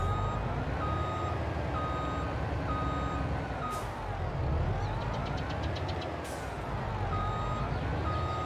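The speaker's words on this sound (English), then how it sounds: "This truck sounds like a vacuum cleaner." A truck engine in Farming Simulator 22 drones steadily, with a repeating reversing beep sounding over it.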